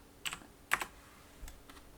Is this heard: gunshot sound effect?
no